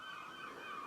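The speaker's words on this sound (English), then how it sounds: "I hope you can hear the gulls outside." Seagulls call outside by the sea at St Monans, a brief burst of honking cries from a distance, heard alone without speech.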